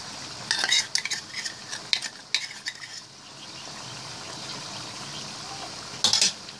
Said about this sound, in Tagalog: Sisimutin lang po natin yung ating liver spread.